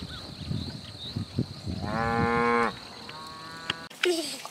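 A cow gives a long, drawn-out moo, then a shorter one, over a steady outdoor hum with some scattered knocks and shuffling.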